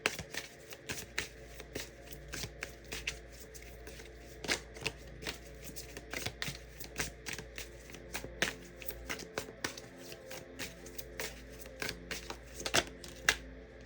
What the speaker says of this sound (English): Let's go ahead and pull another card